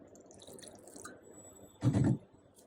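Water poured into a blender jar holding 50 grams of washed falsa berries, a short splashing gush of about a quarter second, fairly loud and close after quiet background, with no talking.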